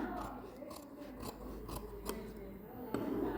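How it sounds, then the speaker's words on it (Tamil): Scissors snip through silk saree fabric while an old saree is cut into a gown, a steady run of crisp rasping cuts at close range. "இதே மாதிரி பண்ணிவிட்டு இதை நீங்கள் கட் பண்ணுங்கள்"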